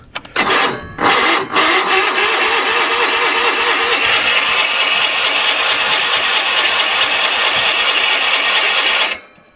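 A Sears SS16 garden tractor engine cold starting in winter cranks in a few short bursts, then catches and runs loud and steady at a rough idle for several seconds before cutting off abruptly.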